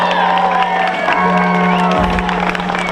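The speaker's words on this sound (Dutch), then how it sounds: "Dus even een applaus voor Mike, die heeft het ook gehaald." Crowd at a Dutch pole-sitting championship final in Kollum cheering and clapping outdoors, whoops and shouts mixed with applause over a steady low hum, with tonal voices and music-like lines running through.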